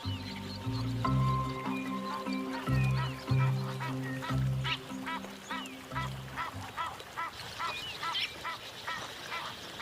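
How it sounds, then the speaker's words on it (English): Repeated harsh honking calls from Egyptian geese, loud and close, coming in bursts over low rumbling background noise. "A pair of Egyptian geese forages on aquatic plants growing in a stream."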